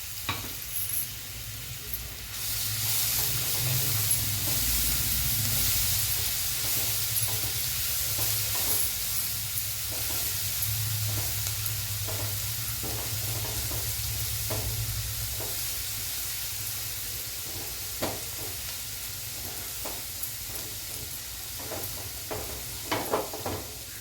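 A paste of garlic, green chilli and cumin frying in a pan makes a loud, continuous sizzle that eases slightly over time, with frequent light scrapes and taps of stirring and no talk.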